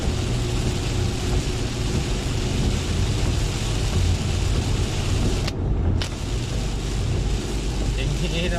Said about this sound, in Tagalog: Kaya ito pa naman ka tinding ulan no?